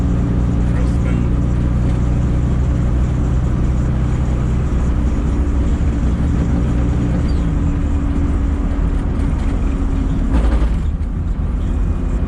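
A Honda D16Z6 engine with freshly adjusted valve lash idles smoothly at about 1150 rpm, a steady low rumble that runs throughout with only slight variation.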